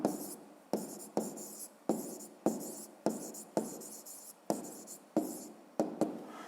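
A pen scratches across paper in a run of about ten quick strokes, each starting sharply and fading, written close up in a quiet room while answers to a fifth-grade maths exercise are marked.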